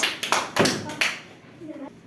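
Classmates in a second-grade antonym quiz clap for a contestant taking his place, a brief burst of a few sharp, close hand claps that quickly fades, with a short voice sounding near the end.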